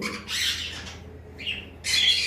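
Cockatiels and other cage birds squawk in short, shrill bursts, three harsh calls separated by brief pauses, close and fairly loud with no talking.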